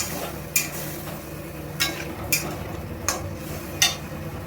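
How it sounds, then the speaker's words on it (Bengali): A spoon stirs a prawn, potato and pumpkin curry after water is added, giving soft scraping strokes at irregular intervals over a low kitchen background, with no talking. "জলটা দিয়ে একটু ভালোভাবে নাড়িয়ে নেব।"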